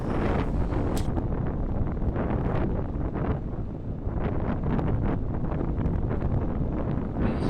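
Strong wind buffets the microphone continuously, a loud rushing roar with gusty swells and no voices.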